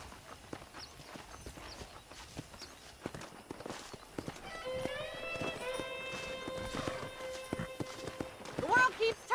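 Horse hooves clip-clop in a steady walking rhythm in the Red Dead Redemption video game, quiet and continuous, with soft melodic tones joining halfway through.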